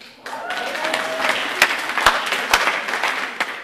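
A live audience breaks into applause, a dense patter of many hands clapping that builds quickly and continues at a fairly loud level for a few seconds, with sharp individual claps standing out.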